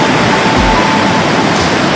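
A glacier-fed river and waterfall on the Everest Base Camp trek between Phakding and Namche, heard as a loud, steady, close rush of water that holds evenly throughout with no talking.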